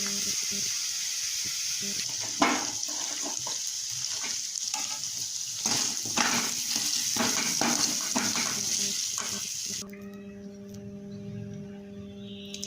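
Mustard seeds and red chili fry in hot oil for a potato dish, a steady close sizzle with crackles and stirring scrapes, which drops to a quieter hiss near the end, while someone talks over it.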